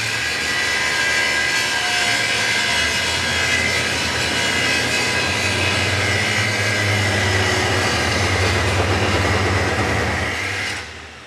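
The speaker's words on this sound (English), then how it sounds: "the large angle grinder is also going to be grinding that same 4x4 steel as well" Abrasive chop saw and large angle grinder cutting and grinding 4x4 steel inside a building, run off a portable power supply through 200 feet of extension cord; a loud, steady, continuous roar and whine holding for about eleven seconds before cutting off.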